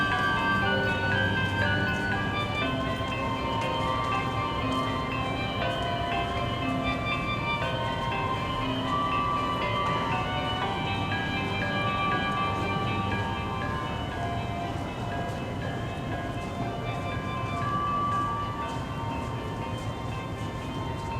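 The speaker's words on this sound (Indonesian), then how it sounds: "Hiruk pikuk suasana peron stasiun kereta dengan segala aktivitas tempo dulunya" Bustling old-time railway station platform with a steady, dense wash of crowd and train ambience, layered with tonal hums and music-like drones, continuous and fairly loud throughout without clear speech.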